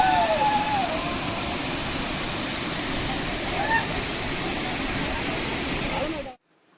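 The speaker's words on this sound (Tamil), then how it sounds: "ஸோ ஃபால்ஸோட சவுண்டு எனக்கு நல்லா கிளியராக கேட்குது" Benki Falls waterfall in a Karnataka forest roars steadily and loudly up close, a dense unbroken rush of water with faint birdsong above it, cutting off abruptly at the end.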